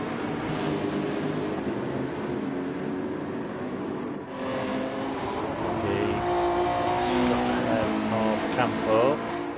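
Race car engines roar steadily through a GR2 super cup race, a dense, continuous drone of multiple cars near the rev limiter with shifting pitch as they pass, while commentators talk over it.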